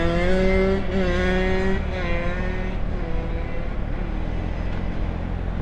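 A 2013 Kawasaki Ninja ZX6R 636 sports motorcycle on the road, its engine note high and steady with rising harmonic whine as it revs through gears, then settling into a loud broadband rush of engine and wind, close and alone.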